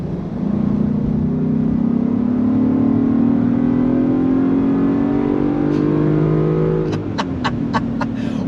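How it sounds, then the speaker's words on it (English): A 2023 Land Rover Defender V8 Carpathian Edition SUV revs hard at high RPM. The engine drone climbs steadily and loudly for several seconds, then dips with a gear change, with no talking over it. "When you get up high in the RPM and you really start to hear her sing"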